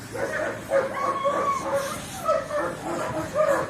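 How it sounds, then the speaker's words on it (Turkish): Dogs yip and whine in short, excited bursts at moderate distance, with a few higher whimpers mixed in, while someone cleans nearby. "Köpekler de o yüzden havluyor"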